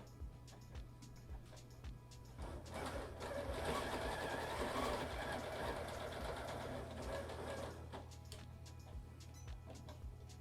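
A Horizon Memory Craft 9480QC sewing machine stitches along a ruler, a soft rapid mechanical whir that rises midway and then slows and stops, heard faintly over a steady low hum.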